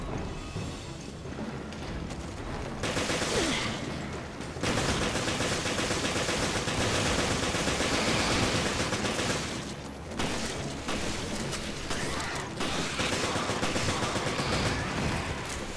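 Sustained dense gunfire from a handgun or rifle in Resident Evil Revelations, a steady wash of shots and impacts that runs loud for most of the stretch with a couple of short lulls.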